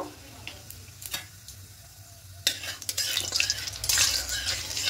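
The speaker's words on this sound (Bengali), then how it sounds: "একটু নাড়াচাড়া করে নেব কালো জিরেটা ফুটে আসা পর্যন্ত।" Black cumin seeds sizzling in hot mustard oil in a wok while a spoon stirs and scrapes, quiet at first then a louder burst of frying and clinking near the end.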